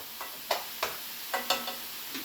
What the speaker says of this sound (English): Mushrooms are sauteing, the hamburger is browning